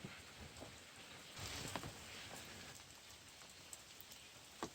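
Steady rain falls in Pisgah National Forest, North Carolina, a dense even hiss of drops with a few sharper nearby spatters, heard alone with no voices.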